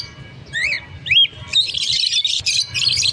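Lutino Opaline lovebirds in a cage give a few sharp close chirps, then a burst of dense overlapping chatter, with low background noise beneath.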